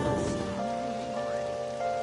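Steady rain falls in the video game Persona 5 Royal, an even continuous hiss of drops on surfaces, with faint tonal music running beneath it.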